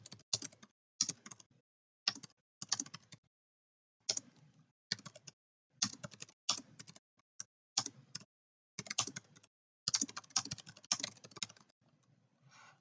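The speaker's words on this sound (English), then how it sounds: "Type in our passphrase." A passphrase is typed on a computer keyboard for a masternode setup, heard as close, crisp key clicks in short irregular bursts with brief pauses.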